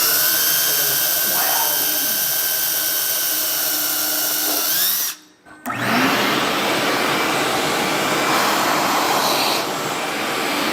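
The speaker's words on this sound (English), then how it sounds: "So we're going to drill one of the holes out." Power drill boring out a hole to mount landing gear on an RC jet, a loud steady whir that stops briefly mid-way then resumes, alone without talk.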